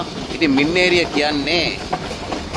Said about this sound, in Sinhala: මින්නේරිය දුම්රිය ස්ථානය පහු කරගෙන දුම්රිය ඉස්සරහට යනවා